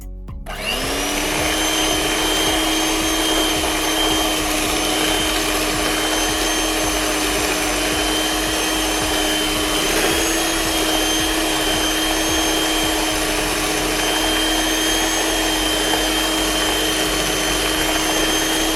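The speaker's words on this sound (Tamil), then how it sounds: "அடுத்ததா இதில் சுகர் சேர்த்து மிக்ஸ் பண்ணிடுங்க." An electric mixer beats sugar into sponge cake batter, whirring loudly and steadily for the whole stretch after a brief start-up, with a constant motor whine and no talking.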